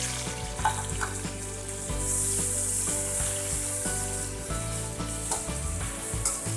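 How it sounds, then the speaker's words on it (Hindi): Onions fry in a pan with a steady, close sizzle, punctuated by light clinks and stirring. "अब इसी में हम प्याज ऐड करेंगे, फ्राई करेंगे।"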